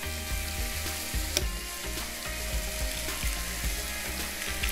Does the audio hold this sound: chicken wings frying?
yes